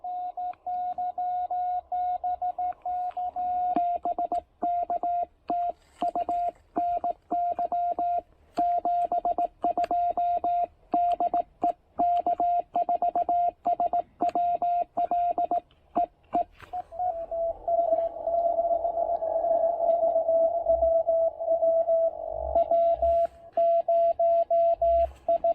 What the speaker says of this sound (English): CW for some people who are learning CW.